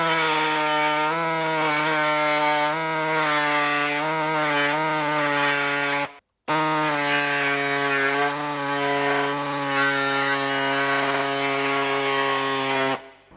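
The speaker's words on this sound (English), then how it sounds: "I'll cut that section and then I'll cut around from there." A power tool grinds steadily through the sheet-metal quarter panel of a Toyota 79 Series, a loud, close, continuous whine with a strong tonal pitch that stops briefly midway and then resumes.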